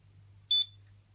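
A single short, high electronic beep sounds as the timer button is pressed on an Amica PH62202ZTUK ceramic hob, against a faint low hum.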